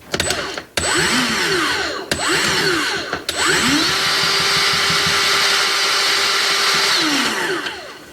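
A grease gun pumps grease into the front chassis of a 2000 P32 Workhorse motorhome, giving loud mechanical whines that rise and fall in short bursts, then hold as one long steady run before winding down, with no speech.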